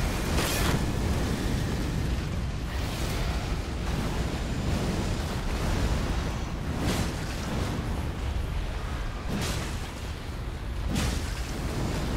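Explosions in Elden Ring boom repeatedly in a deep, rumbling roar, several loud blasts landing one after another over a constant heavy low-end wash, with no voices.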